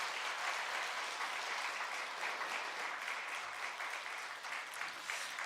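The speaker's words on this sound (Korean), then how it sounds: "여러분들 인사하고 들어갈 때 큰 박수로 환영해 주시기 바랍니다" A church congregation gives a long, even round of applause to welcome a new deacon, the clapping heard from a distance and holding steady throughout.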